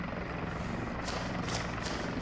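Helicopter in the ArmA 2 military shooter, a steady rotor and turbine drone held at constant loudness with a few brief bursts of noise above it, no voices.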